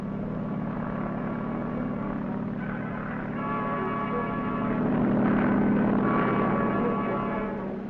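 Steady droning of a Navy carrier helicopter, a continuous engine hum that swells slightly louder toward the end.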